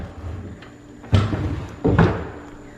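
Drawers of a thrifted vintage cabinet are pulled open and pushed shut: two distinct wooden thumps with a short rattling slide after each, close and fairly loud, with no talking.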